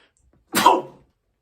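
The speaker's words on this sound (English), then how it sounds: "Yeah, I sneezed." A man gives one single, sharp sneeze, close and fairly loud, lasting about half a second, with silence before and after.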